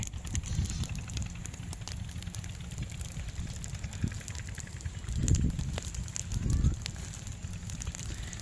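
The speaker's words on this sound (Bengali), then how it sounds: "এরকম সবুজ কাঁচা ঘাস এভাবে জ্বলতে পারে, আগুন এভাবে জ্বলতে পারে, এটা ধারণার বাইরে।" Wildfire burning through green, fresh grass on an open char area, heard as a dense, continuous crackle and rustle over a low wind-like rumble, with louder surges near the end.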